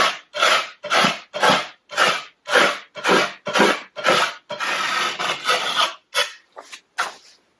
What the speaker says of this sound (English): I'm just scraping it